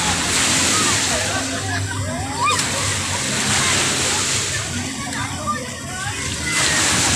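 Large ocean waves wash and slosh onto a beach, a continuous loud surf roar with swells rising and falling, close by and filling the scene.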